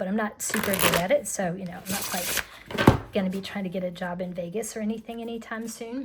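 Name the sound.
shuffling tarot card deck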